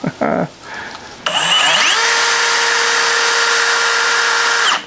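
A drill bores into wood with a dull Forstner bit: a few short knocks, then a loud, sustained whining drone that climbs in pitch and holds steady until it stops abruptly.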